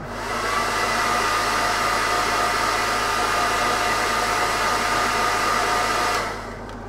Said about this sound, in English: Hair dryer time again.